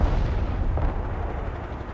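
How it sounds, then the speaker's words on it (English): A Kornet missile from the game Broken Arrow slams into a building, a dense rumbling blast that rolls on and fades out over two seconds, with no voices. "And the Cornet will fire at me. And then I just dip behind the building. And then they hit the building."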